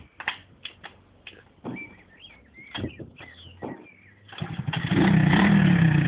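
A Stomp pit bike engine blips in short irregular revs, stuttering and nearly stalling before settling into a louder sustained rev close by.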